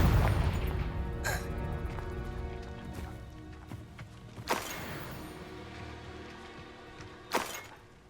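A Confringo blasting spell goes off in the Hogwarts Legacy game: a deep rumbling boom opens, then sharp burst impacts strike at intervals over a dull low ambience, with no voices.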